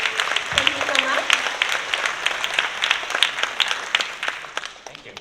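Audience applause at a Dancing Classroom Philly end-of-year dance celebration: dense, steady clapping from a crowd that stays loud throughout and thins slightly toward the end, with a brief voice heard near the start.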